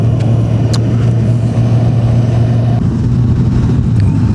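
A Kawasaki Z1000SX motorcycle engine hums loudly and steadily at close range, with a droning tone that holds and shifts slightly as it pulls along.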